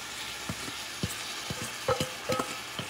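Flank steak with onions sizzles in a pan at medium-high heat, a soft continuous crackle broken by several sharp clacks and scrapes of a utensil against the pan, with no talking.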